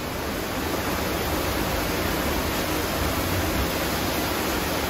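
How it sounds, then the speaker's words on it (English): Heavy rain pouring outside, a steady, dense hiss of loud rainfall that holds unchanged throughout with no voices. "It's also raining so hard outside. It is so loud."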